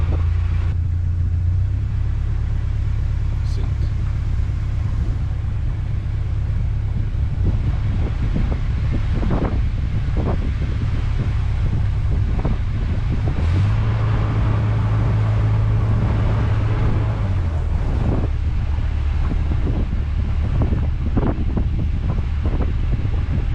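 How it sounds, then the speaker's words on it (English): Steady, heavy wind buffets and rumbles around a narrowboat on a canal, with a continuous low roar and occasional gusts and thumps of the moored boat throughout. "It's just in time for the wind to start blowing."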